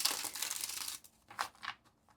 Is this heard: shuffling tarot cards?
yes